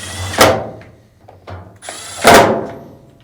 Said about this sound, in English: Then reinstall the two Phillips screws.